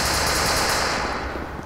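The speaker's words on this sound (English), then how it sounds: "I hear gunshots" A loud, dense burst of rapid automatic gunfire in the video game SCP: Secret Laboratory rattles on continuously, easing off slightly toward the end.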